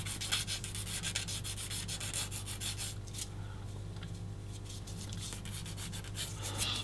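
Rapid back-and-forth rubbing of an old sanding stick against a small hard plastic 1/35 scale model part, a dry scratchy rasp in quick strokes, close up and steady.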